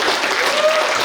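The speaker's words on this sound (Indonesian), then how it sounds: "kita beri aplaus dulu untuk PTRS ya" An audience at a seminary gathering gives a short burst of dense clapping that fills the room, with a voice briefly audible over it.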